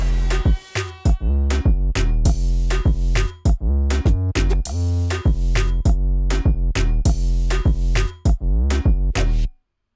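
An electronic music drop made in FL Studio, with punchy, chopped synth lead stabs over deep bass hits in a steady rhythm, loud and alone, ending abruptly.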